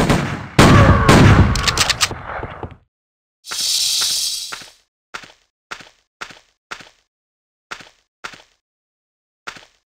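Gunfire in the Western shooter game Outlaws opens with a loud, rapid burst, then a sustained blast. About eight sharp single shots follow, spaced irregularly with silence between them.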